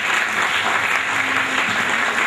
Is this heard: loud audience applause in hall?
yes